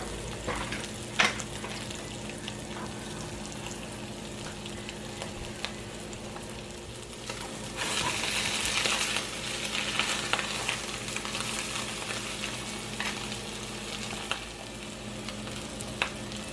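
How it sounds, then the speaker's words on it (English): Crab cakes frying in butter in a skillet, a steady soft sizzle close by that swells louder midway, with occasional light clicks of utensils and no talking. "you're going to add in about 2 tablespoons of butter, and you are going to cook the crab cakes for about 5 minutes"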